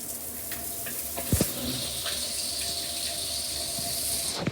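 Water sprays steadily from a square Bristan shower head, a soft even hiss of falling water with a couple of brief knocks partway through.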